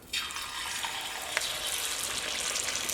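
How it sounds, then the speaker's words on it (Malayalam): Wheat flour dough for crisp alavalang snacks sizzles steadily in hot oil, a close continuous frying hiss that starts abruptly and holds, with one small pop partway through. "എന്നിട്ട് അത് ഓയിലിലേക്ക് ഇടാം"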